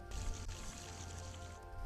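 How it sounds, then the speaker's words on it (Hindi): Water pours steadily onto crops in a farming video game set in a village, a continuous loud splashing wash with a deep low rumble underneath, heard alone without talk. "यहाँ पर हम लोग को पानी डालना है।"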